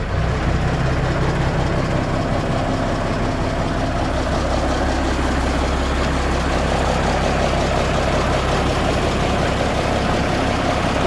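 Historic military funeral transport truck engine idling cold after startup, a steady loud low rumbling drone that stays even throughout, heard close with no talking.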